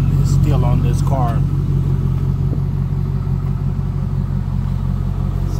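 A car idles through its original exhaust system, a steady low rumble filling the whole stretch at close range, with a few brief voice-like sounds near the start.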